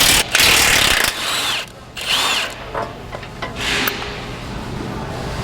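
A power tool zips off the nuts on a 2021+ Ford Bronco lower control arm during a long-travel kit install. It fires in several loud, close bursts with whining spin-ups, separated by short pauses and light metallic rattles.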